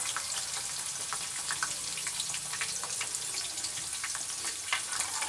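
Banana chips frying in hot oil on a low flame, a steady crackling sizzle with fine popping bubbles throughout, close and fairly soft, with no talking.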